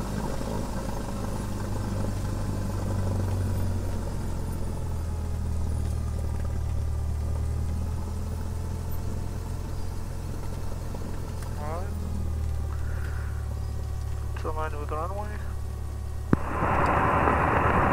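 A low, steady Cessna propeller engine drone hums throughout at takeoff from a short runway in California, with faint radio chatter over it and a brief burst of noise near the end.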